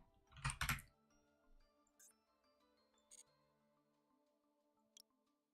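A few quiet computer keyboard key presses follow a louder cluster of clicks at the start, scattered sparsely over soft background music, with no voices.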